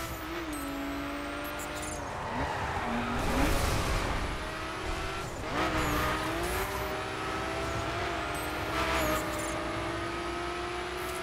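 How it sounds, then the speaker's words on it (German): Lamborghini Gallardo engine in The Crew racing game, a steady sustained drone with shifting pitch as the car accelerates and shifts, with occasional tire squeal, continuous throughout at moderate level. "Der Klang des Gallardos."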